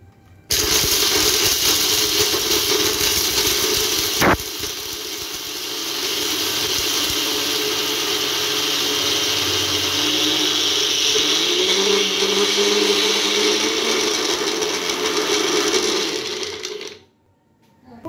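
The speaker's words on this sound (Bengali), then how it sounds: "দেখুন আমি প্রথমে এই ব্লেডটা ব্যবহার করছি মিক্সির জারে। এই ব্লেডটা দিয়ে এগুলোকে আগে গুঁড়ো করে নিই" An electric mixer grinder whirs loudly and steadily for a long stretch, with a blade in the jar grinding dry ingredients for a milkshake, the motor pitch shifting slightly midway before it cuts off abruptly near the end.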